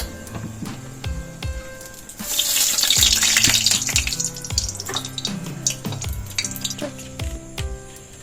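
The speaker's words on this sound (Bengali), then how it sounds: "তো এখন দেখো ফুটছে টকবক করে।" Semai with almonds and raisins boiling in a pot, a steady bubbling and hissing roll under clinks and scrapes of a spoon, close and moderately loud with no talking.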